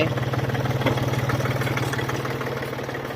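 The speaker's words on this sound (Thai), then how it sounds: "นี่ครับเกียร์โฟอ่าเกียร์ PTO ทำงานปกติเลย" An Iseki Landhope 20 hp tractor with about 500 hours runs with its PTO engaged, a close, steady diesel chug with an even rapid thumping pulse and a slight rattle.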